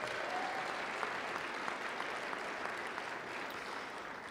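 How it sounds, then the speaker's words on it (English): A seated audience at a 2022 high school graduation ceremony applauds in a steady, even patter of many clapping hands throughout, heard from some distance. "let's give him a round of applause as well"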